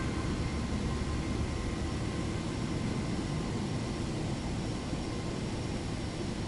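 An aircraft takes off in Microsoft Flight Simulator, heard as a steady, loud roar of engine noise that holds even and unbroken throughout, with no talking.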